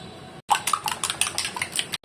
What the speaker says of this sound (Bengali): এখানে আমি লবণ দিয়ে এটা ফেটে নেব ডিম